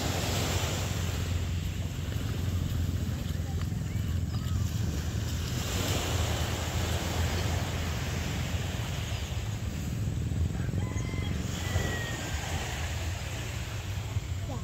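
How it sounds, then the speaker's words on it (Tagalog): Steady roaring wash of large waves and surf with heavy wind buffeting the microphone, continuous and loud throughout, no voices. "ang laki ng alon"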